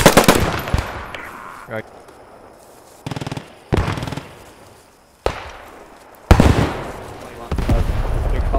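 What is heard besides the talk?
machine gun fire in the Post Scriptum video game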